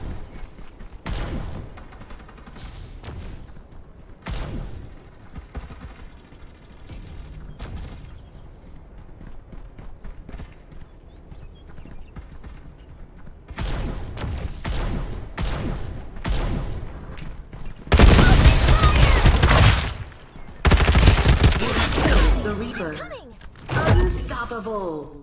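Gunfire in the shooter game Farlight 84, with scattered sharp shots and then dense bursts of rapid fire and impacts toward the end, under intermittent game voice lines.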